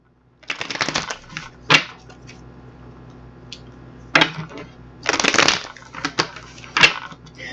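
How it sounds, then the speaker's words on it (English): Bursts of riffling and snapping playing cards being shuffled close by, several quick rounds separated by short pauses, no talking. "let's get these cards shuffled up"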